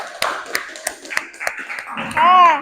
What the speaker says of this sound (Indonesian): Kasih tepuk tangan untuk kalian semua.